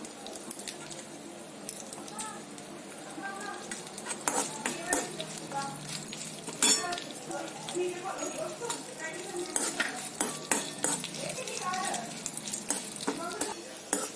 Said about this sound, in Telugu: ఎండుమిరపకాయలు వేగాయి